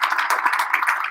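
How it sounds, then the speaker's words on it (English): An audience at a Cobb County Republican Party breakfast claps steadily, a dense, even patter of many hands heard up close with no voices over it. "So give yourself a huge round of applause."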